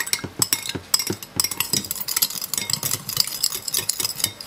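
Brisk stirring of coconut sugar into a spicy Thai egg salad dressing, a utensil clinking and scraping against a bowl in quick, irregular strokes, close and fairly quiet.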